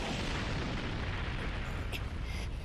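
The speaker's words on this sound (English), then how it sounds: "That's just an explosion." An explosion in the Made in Abyss anime, heard as a steady, low rumbling roar that persists for nearly three seconds at moderate level, with a brief bright crackle near the end.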